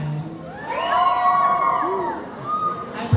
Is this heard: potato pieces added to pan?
no